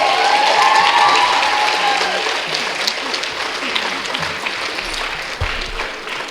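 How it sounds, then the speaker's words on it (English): Loud, sustained audience applause for a young dancer at her arangetram, Indian classical dance debut, a dense clapping crowd that slowly eases off, with a faint tone near the start. "Let's have another big round of applause for Kea."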